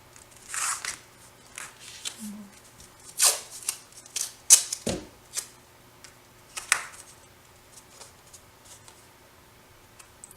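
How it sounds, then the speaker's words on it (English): Tape being pulled and pressed down by hand to hold a metal die and cutting mat in place for paper crafting, heard as scattered close crackles, rips and taps with quiet gaps between them. "We'll tape it on, tape our mat on top."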